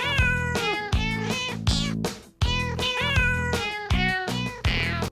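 A cat meows repeatedly, about eight loud, close, drawn-out calls in quick succession with brief gaps between them, some rising into a wailing caterwaul tone.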